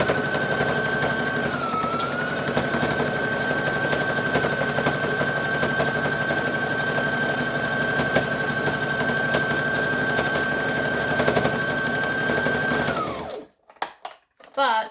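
Sewing machine stitching a hoodie, running as a continuous fast, close mechanical whir with a steady high whine for about thirteen seconds, then stopping abruptly and giving way to a few faint clicks and handling sounds.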